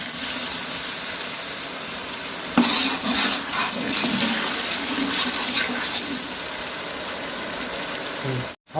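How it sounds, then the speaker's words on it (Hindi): A glass of water is poured into a hot pan of frying garlic ginger paste for chicken pulao, a sudden hissing rush over the sizzle that settles into a steady bubbling simmer. "अब हम लोग इसमें 1 गिलास पानी डाल देंगे।"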